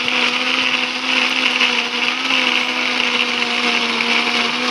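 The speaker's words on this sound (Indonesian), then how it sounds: "Kemudian kita akan haluskan menggunakan blender." A blender grinding spices whirs steadily at high speed, a loud continuous motor drone with a grinding edge that holds without pause.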